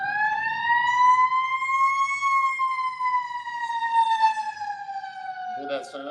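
A fire truck siren wails loudly in long, smooth rising and falling sweeps, staying prominent throughout before a short burst of other noise near the end.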